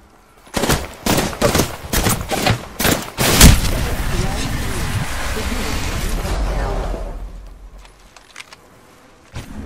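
Gunfire in Apex Legends comes as rapid bursts of loud shots in quick succession, followed by a sustained roar that fades out into quieter game ambience.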